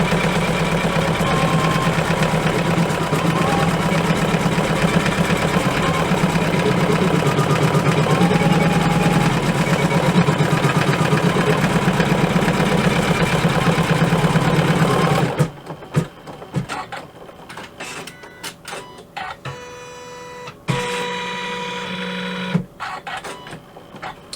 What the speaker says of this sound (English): I'm going to stitch colorway 2 just to hold all of that down.